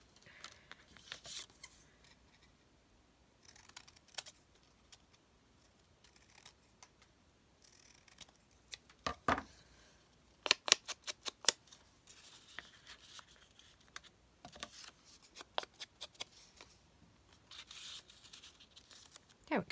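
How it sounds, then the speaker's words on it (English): Scissors snip the ends of fabric tags in a quiet room, giving sparse clusters of short, crisp cuts with soft paper-and-fabric handling sounds between them, close by and faint, with no talk. "So I'm going to go ahead and trim the end of my tags off so they sit down there a little bit more."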